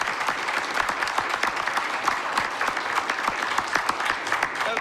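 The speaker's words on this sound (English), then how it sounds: "Can we give them another round of applause?" An audience at a city commission meeting applauds steadily, a dense patter of many hands clapping at a moderate distance for several seconds with no talk over it.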